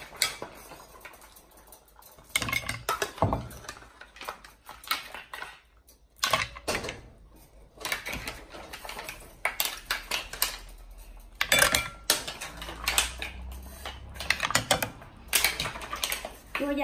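A utensil scoops large baked New Zealand green mussels from a dish for serving, making a series of irregular clicks, taps and scrapes against shells and cookware, close and moderately loud.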